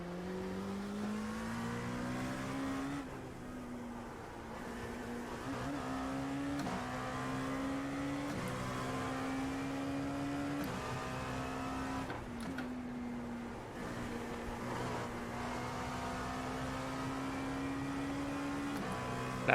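A Dallara LMP2 prototype race car in the iRacing sim roars steadily from inside, its engine tone climbing through gears with brief dips at each shift, loud and continuous with no talk.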